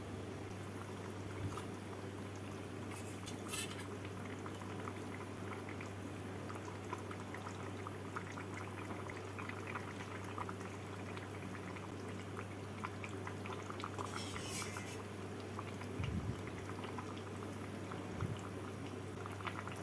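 Rohu fish curry with potato, ridge gourd and slit green chillies simmering in a pan over a medium gas flame, a steady low bubbling and hiss that continues throughout with a few brief clinks.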